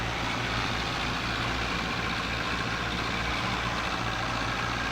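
A tractor engine in Farming Simulator 22 runs at a steady, low rumbling drone, holding a continuous mechanical hum throughout with no talk over it.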